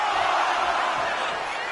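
Dense capacity arena crowd cheering during a WWE 2K25 wrestling match, a steady loud roar of many voices throughout with no break.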